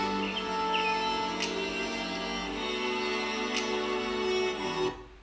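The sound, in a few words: bird chirping sample in a music beat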